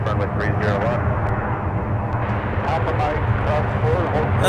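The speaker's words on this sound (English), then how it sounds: "That's Delta 1568 coming in from Denver. A321." A Delta Airbus A321 airliner arriving from Denver at Minneapolis airport, a loud, steady jet engine roar that stays constant throughout, with a person talking over it.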